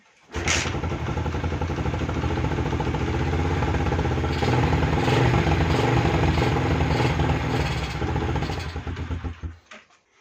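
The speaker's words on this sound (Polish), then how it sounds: "motocykl odpala, paliwo się nie przelewa" Four-stroke motorcycle engine, with a carburettor that had been overflowing fuel, starts up and settles into a steady, close, loud idle with a clattering, even beat before being shut off.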